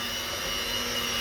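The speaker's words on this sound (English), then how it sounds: "you can as well do that with your mixer, which I'm going to do right now" An electric mixer mixes waffle batter with a steady, continuous high-pitched whirring drone, close and unbroken throughout.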